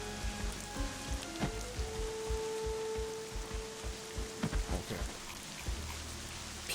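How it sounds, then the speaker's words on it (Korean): Steady rain falling in the Black Desert video game, a constant wash of drops heard alone with a few louder taps and a faint tone in the background. "비도 오는데 아, 비 소리는 좀 그러네"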